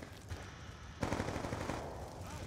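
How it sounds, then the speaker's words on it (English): Sentry gun firing in the video game Call of Duty Black Ops 2, a dense, continuous burst of rapid automatic gunfire that grows louder partway through. "That sentry gun."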